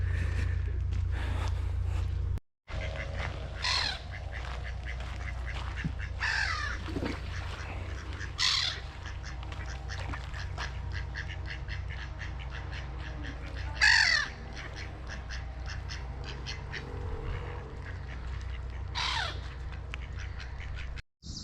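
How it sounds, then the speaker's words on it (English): Crows cawing repeatedly in English woodland among other bird calls, with a steady low rumble underneath and a brief dropout early on. "You can hear the birds and look at the greenery."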